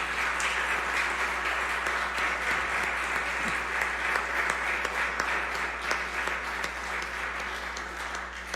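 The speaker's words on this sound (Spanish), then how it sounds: "Vamos a recibirlos a ellos con un aplauso" Steady applause from a church congregation welcoming a team, many hands clapping evenly for the whole stretch with a low hum beneath.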